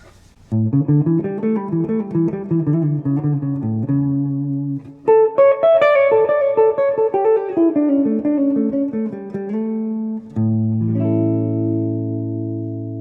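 A guitar plays a run of single notes up and down a Mixolydian pentatonic scale, ending on a sustained low note; clean tone with no talking.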